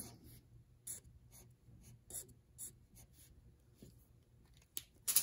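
A pen or pencil drawing crisscrossing lines on paper, short scratchy strokes repeated in quick bursts with small pauses between them, close and quiet.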